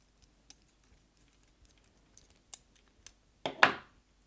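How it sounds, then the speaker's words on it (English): Flat nose pliers pull wire through a ring while making stacking rings, producing sparse soft clicks and ticks close by, then a louder scraping pull near the end. "I'm going to use my flat nose pliers to pull it out."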